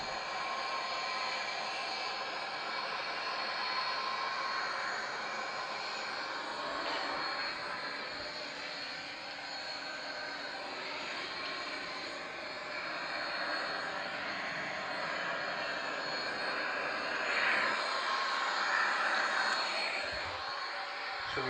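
An El Al Boeing 737-800 jet descends to land in Microsoft Flight Simulator X, its engines giving a steady, broad whooshing roar that carries on without a break and with no talking.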